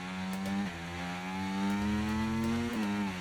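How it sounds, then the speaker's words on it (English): A race car engine in a racing video game screams at a high, steady pitch as if over-revving and not shifting, with brief dips and harmonic wobbles before it climbs again, loud and continuous. "The engine sounds like I'm over-revving it"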